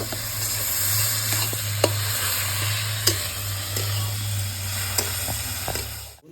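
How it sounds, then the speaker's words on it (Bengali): Ginger garlic paste frying with onions in oil for mutton curry, a loud, continuous close sizzle with a low steady hum beneath and a few sharp clicks of a stirring utensil. "এবারে আদা রসুনে পেস্ট দিয়ে দেবো ভালো করে কষে দেবো"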